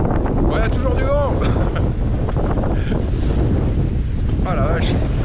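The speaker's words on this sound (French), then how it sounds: "Ouais, il y a toujours du vent." Strong, steady wind buffets the microphone aboard a sailboat at a windy anchorage off a big beach, roaring without pause under scattered voices talking.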